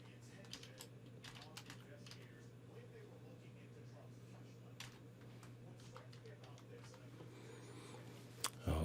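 Faint keystrokes on a computer keyboard as a password is entered, soft scattered clicks over a steady low electrical hum, with a louder knock right at the end.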